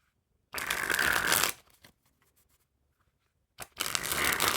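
Bicycle Red Party Cup playing cards being shuffled up close, two loud bursts of riffling separated by a quiet pause with a few soft card handling taps.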